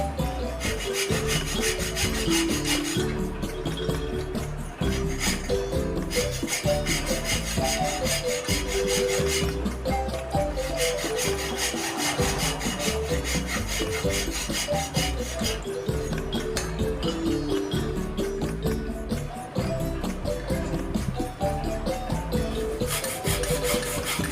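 Steady back-and-forth rasping of a saw blade cutting off excess pipe, continuous and close, with a regular rhythm that briefly pauses and resumes.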